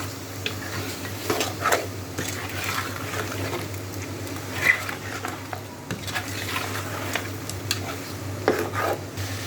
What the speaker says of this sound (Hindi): और ये सारी चीज़ें ऐड करने के बाद हम इसको दोबारा अच्छी तरह से मिक्स कर लेंगे।